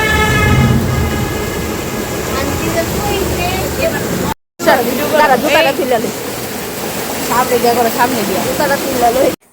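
Water gushes out over rocks in a loud, steady rush close by, broken by a brief cut, while people talk over it.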